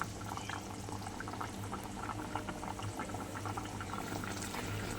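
Tilapia fish curry boiling in a covered pot, a continuous close bubbling and gurgling with a steady low hum beneath it and no voices.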